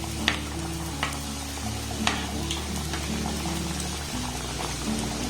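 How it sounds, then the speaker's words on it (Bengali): Potato-onion snacks fry in hot oil in a wok, a steady bubbling sizzle with a few sharp spattering pops, close and continuous with a low hum beneath and no talking. "আমি তিনটে তিনটে করে কিন্তু ভেজে নেব"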